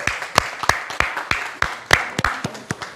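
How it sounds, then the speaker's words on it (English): Sparse applause from a small group of people in a room, a dozen or so distinct, irregular hand claps close by over a few seconds, with no talk. "Give him a round of applause"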